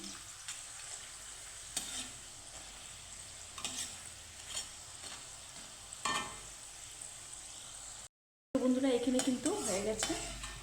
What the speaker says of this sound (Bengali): তো এইভাবে একটু হালকা লাল লাল করে ভাজবো একদম কড়া করে লাল ভাজ করবো না